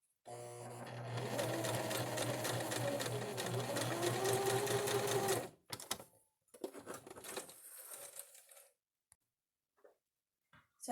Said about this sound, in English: So I'm just basting the side a couple inches here where I've pinned the top layer to the bottom layer.